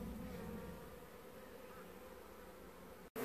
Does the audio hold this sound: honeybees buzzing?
yes